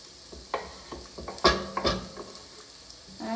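Chopped onion and parsley sautéing in warm olive oil in a pan, a soft steady sizzle broken by clattering stirs and scrapes of a utensil against the pan, close and without talk.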